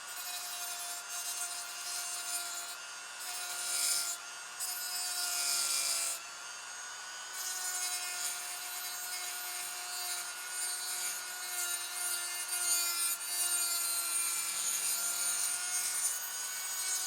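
A power tool, likely a Dremel, cuts a scored wooden piece for a crossbow, giving a steady high whine with a grinding rasp, briefly pausing and resuming, close and fairly quiet.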